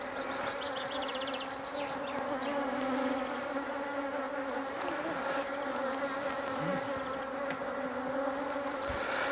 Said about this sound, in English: The bees are pulling the comb really quickly